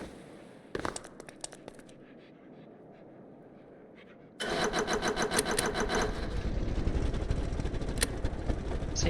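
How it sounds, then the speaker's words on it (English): A Stormworks vehicle engine runs with a buzzy, rattling drone, quieter at first, then jumping louder and staying steady. "See, now the engine's able to run just fine without us going anywhere."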